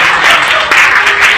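A crowd at a Republic Day Hindi poetry gathering (kavi sammelan) gives loud, close applause, a thick, continuous roar of many hands clapping that surges briefly before cutting off.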